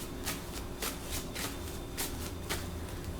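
Tarot cards are shuffled by hand, a quick series of crisp riffling bursts at a steady rhythm, close and fairly quiet, with no voice over them.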